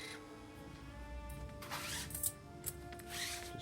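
A welder's power feed hums as it drives the old welding wire back out of the machine, a steady mechanical whir close by with a few small clicks and rubbing sounds and no talk.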